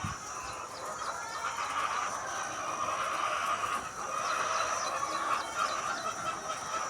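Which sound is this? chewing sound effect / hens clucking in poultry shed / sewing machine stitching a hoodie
hens clucking in poultry shed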